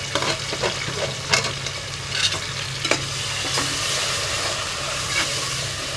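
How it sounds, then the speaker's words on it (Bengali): Spice pastes, yogurt, nutmeg, mace, garlic and ginger pastes fry together for morog polao, a steady close sizzle with occasional scraping stirs and clinks on top. "সবগুলোকে আমি ভালো করে বেজে নিচ্ছি"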